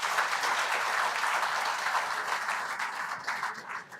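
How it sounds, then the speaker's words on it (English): An audience at an Indian Rubber Institute technical session claps together in a sustained round of applause that holds steady for a few seconds, then thins and trails off as individual claps fade. "So give him a big round of applause."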